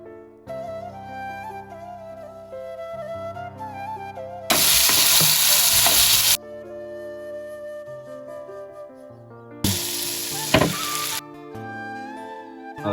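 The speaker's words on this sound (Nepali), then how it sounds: "तेल हाले, लसुन फुराउँदैछु" Garlic fries in hot oil for Nepali-style keema noodles, giving two loud bursts of crackling sizzle over soft background music.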